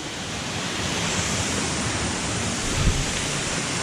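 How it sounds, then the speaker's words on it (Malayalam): Meenmutti waterfall, running weakly in a dry season, pours as a broad, steady rushing roar, close and fairly loud, with a faint wind rumble and no talking. "ആ വെള്ളച്ചാട്ടം നോക്കിയാ, മഴയില്ലാത്തോണ്ട് എന്താ പറയാ ചാട്ടത്തിന് ശക്തി കുറവാണ്"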